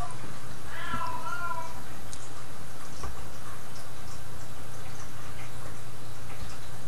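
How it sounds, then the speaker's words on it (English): A house cat meows once, fairly faint and short, in a quiet indoor room. A low steady hum sits under it and no one speaks. "You might hear one of my cats in the background."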